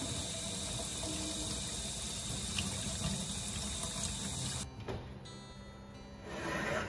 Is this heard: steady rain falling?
no